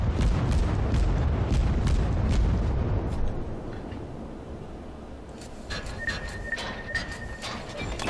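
Main guns of the St Louis armoured cruiser firing in World of Warships, deep rumbling booms crowding the first few seconds, then fading to a quieter battle ambience with a thin sustained tone.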